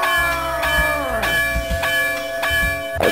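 Bright, ringing bell chimes from The Amazing Spider-Man vs. The Kingpin video game strike several times in quick succession, each tone sustaining and overlapping into a loud, resonant shimmer.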